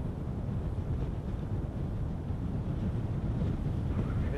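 A Proton rocket launching the Echostar XIV satellite at night in Kazakhstan makes a distant, steady, muffled low roar that fills the whole stretch without talk.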